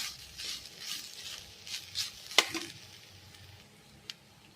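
Faint sizzling of frying with turmeric in a pan, a soft continuous crackle with a few light stirring scrapes and one sharp clink of utensil on pan, no talk.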